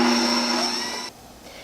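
An electric mixer whirs steadily at medium speed through cupcake batter, a loud, even motorized hum that drops abruptly to a quieter drone partway through.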